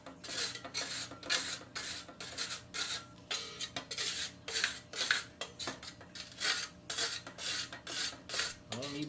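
Blade rubbed repeatedly across a very soft sharpening stone, a steady series of rasping back-and-forth strokes, close and moderately loud, with no talking.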